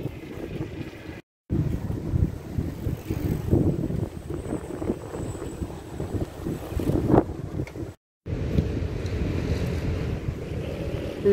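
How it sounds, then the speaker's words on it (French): Wind buffets the microphone on the Promenade des Anglais seafront in Nice, a loud continuous rumbling roar with brief cuts, and surf noise mixed in. "j'espère que vous m'entendez parce qu'il y a du vent."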